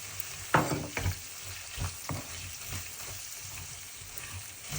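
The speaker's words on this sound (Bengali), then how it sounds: "1 মিনিট ভেজে নিতে হবে।" Turmeric, salt and a ground garlic, mustard and cumin paste fry in hot oil for an okra dish, sizzling quietly and steadily while a spoon stirs and scrapes a few times.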